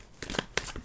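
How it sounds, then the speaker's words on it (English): Tarot cards are shuffled by hand in a short, close burst of soft riffling and slapping card sounds, quiet and brief. "One more shuffle."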